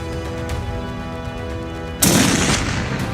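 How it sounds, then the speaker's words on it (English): A single sharp, loud gunshot from a hunter's gun in Alaska bear country cracks out after a stretch of soft music, its boom trailing off over the last second. "Nice shot, Tana."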